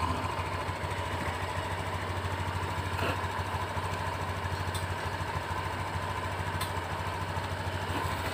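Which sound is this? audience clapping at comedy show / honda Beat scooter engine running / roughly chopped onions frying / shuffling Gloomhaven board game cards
honda Beat scooter engine running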